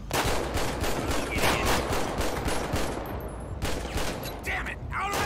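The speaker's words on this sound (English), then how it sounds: "Why is everybody shooting at me?" Gunfire in the video game GTA V with the LSPDFR police mod is dense and continuous, with rapid overlapping shots filling the whole stretch at steady loudness.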